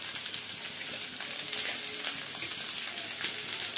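Soybean chunks and green chilies frying in a pan for soyabean manchurian, giving a steady, close crackling sizzle with faint scattered pops throughout, no voices.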